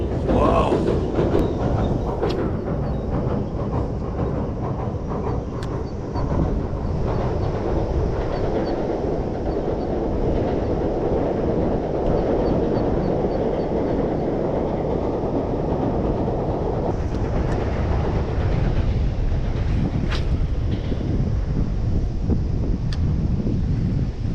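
A train rumbles steadily overhead at a riverside fishing spot, a loud continuous roar with wind buffeting the microphone throughout.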